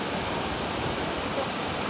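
Waterfall water pours down in Munnar, Kerala as a steady, broad rushing roar, close and loud throughout, with no voices.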